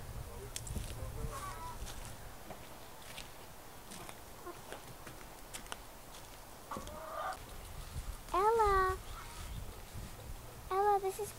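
Chickens clucking and squawking nearby, with sharp rising calls bursting out a couple of times over a steady outdoor background.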